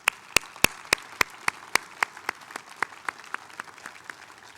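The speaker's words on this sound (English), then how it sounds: "Let's give them all a round of applause" Sparse audience applause at an awards plenary, a handful of distinct, sharp claps at first that thin into a light, slowing patter, fairly quiet in a large room.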